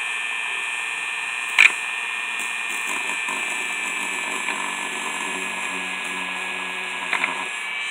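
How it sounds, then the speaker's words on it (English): Dremel rotary tool grinding a piece with sandpaper, a steady high-pitched whine held through the whole stretch with a few small clicks and bumps, close and alone with no talk. "grind in a circular motion"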